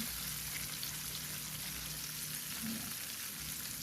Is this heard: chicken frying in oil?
yes